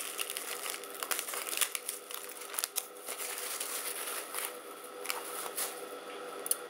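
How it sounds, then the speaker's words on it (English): Tissue paper wrapped around a kit is unwrapped and handled, giving a continuous run of soft, close crinkling and rustling with small irregular crackles and no voices. "it comes wrapped in this cute tissue paper"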